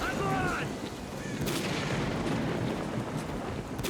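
Heavy, continuous gunfire and booming blasts in STALKER: Call of Pripyat, loud and dense throughout, with brief tonal game sounds early on.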